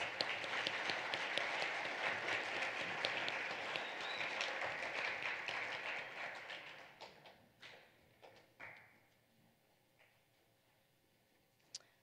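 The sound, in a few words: audience applause for blue ACT club students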